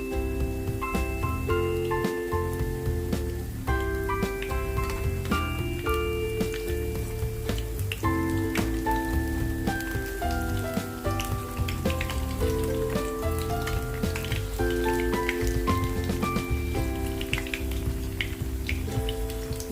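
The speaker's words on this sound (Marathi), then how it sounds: "हे ब्रेडचे स्लाइस तळून घेऊया चांगले असे ब्राऊन रंगावर तळून घ्यायचे" Bread slices fry in hot oil until brown, giving a steady bubbling sizzle that plays beneath constant background music.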